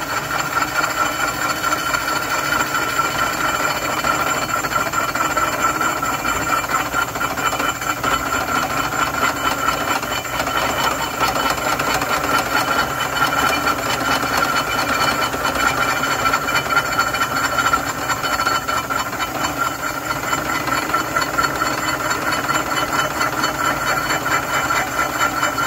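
A milling machine with a Tridex cutter takes a skim cut across a 3/8 steel plate for a cylinder head fixture, knocking off mill scale. It gives a loud, steady mechanical whine and hum with a faint shrill ring running continuously throughout.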